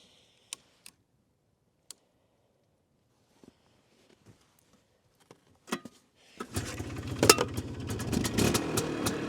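A few scattered clicks in near-quiet, then a loud Polaris quad engine roars to life and keeps running with a rough, steady growl.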